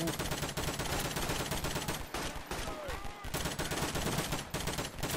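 Rapid automatic gunfire rattles in a Garry's Mod cops-versus-robbers NPC fight, dense bursts of shots overlapping almost without pause, with a brief thinner lull midway before heavy firing resumes.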